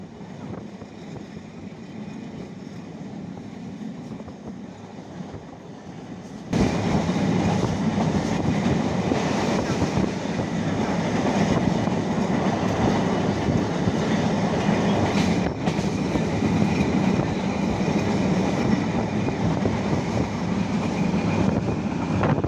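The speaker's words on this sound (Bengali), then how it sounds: "আমাদের ট্রেন এখন সেই চলন বিল অঞ্চলের মধ্য দিয়ে যাচ্ছে" Dhumketu Express train running from Sirajganj toward Ishwardi across the Chalan Beel wetland region, a steady loud rumble and rattle of carriages heard from onboard that grows louder partway through and continues unbroken.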